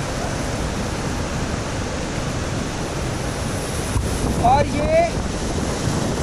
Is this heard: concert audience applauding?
no